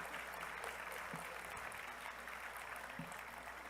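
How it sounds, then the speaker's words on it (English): A crowd gives steady, dense applause for jingle dancers at an event where the Canadian Medical Association apologizes to Indigenous Peoples. The clapping carries evenly from start to finish, without a break. "Let's give them a round of applause"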